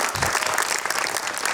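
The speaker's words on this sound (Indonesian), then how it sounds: "Tepuk tangan buat Bang Don Bosco" A studio audience bursts into loud, dense applause for a guest on a TV talk show, clapping steadily without a break over the short stretch.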